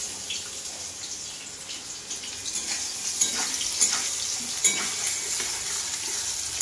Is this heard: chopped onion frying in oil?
yes